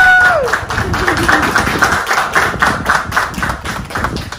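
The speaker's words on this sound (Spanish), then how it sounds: "Un aplauso, mis Brenda, por favor." A crowd at a graduation ceremony applauds for Brenda: dense, steady clapping fills the room from start to finish, with a brief voice at the very beginning.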